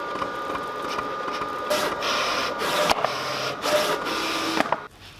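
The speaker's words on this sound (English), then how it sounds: "So that's ready to cut, so I'm going to go ahead and go over to the software and send this to the cutter." A vinyl cutter driven by a servo motor cuts a rhinestone template, giving a steady mechanical whir with repeated bursts of carriage movement and quick stops, then falling quiet at the end.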